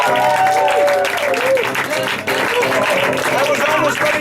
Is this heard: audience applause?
yes